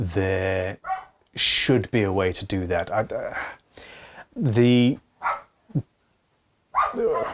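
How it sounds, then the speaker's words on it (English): Puppies bark and yip in short bursts around someone talking steadily in a room, the dog sounds close and fairly loud between his phrases. "I'm sorry for the puppies barking"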